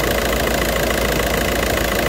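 A Volkswagen Golf Mk5 1.9 TDI diesel engine idles steadily and close up with the air conditioning switched on, a continuous rough mechanical drone with slight knocking texture and no voices.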